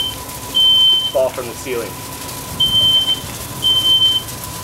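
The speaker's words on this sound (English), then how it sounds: "Smoke detector still activating." Smoke alarm sounding inside a burning house, its high steady tone coming in three long repeated bursts, under someone talking and the dull rush of the fire.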